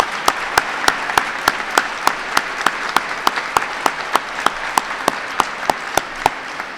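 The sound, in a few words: audience applause for Teacher of the Year semifinalists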